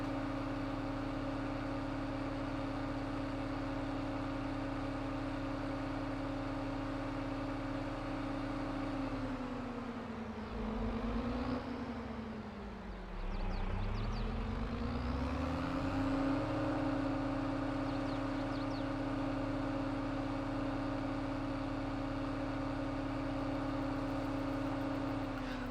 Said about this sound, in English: it doesn't sound like the old Bührer at all. It's more like an electrical wonder machine.